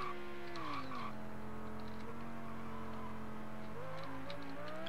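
Formula One cars in Grand Prix 3 racing at Monaco: a loud, continuous engine whine that drops sharply as the car brakes and climbs again through the gears, with faint tyre squeal and nearby rival cars.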